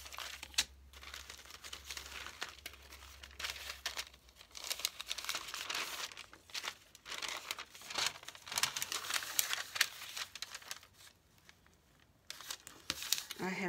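Paper book signatures are handled and cut, giving repeated crinkling, rustling and tearing-like rasps in irregular bursts, close by, with a person talking over parts of it.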